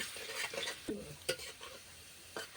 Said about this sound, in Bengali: এবারে রসুনটা আমি তেলের মধ্যে দিয়ে দিলাম রসুনটা ভালো করে ভাজা হয়ে গেলে